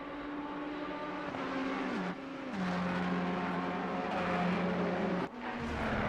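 Ferrari and BMW race cars at Monza in the racing game Assetto Corsa Competizione drone at high speed, steady engine tones shifting pitch with gear changes and a brief dip, with no talk.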